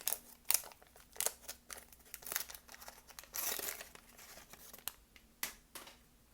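Foil wrapper of a 1991 Fleer baseball card pack being torn open, a run of sharp crinkling rips and crackles in quick uneven bursts, close and moderately loud with no talking.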